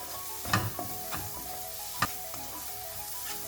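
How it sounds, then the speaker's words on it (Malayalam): Spoon stirring Arabic masala powder and chopped parsley through a rice mixture in a pan for vegetarian Buhari rice, with a few distinct scraping strokes over a low background sizzle. "പാർസ്ലി ഇട്ട് കൊടുക്കാം. നന്നായി ഒന്ന് മിക്സ് ചെയ്യാം."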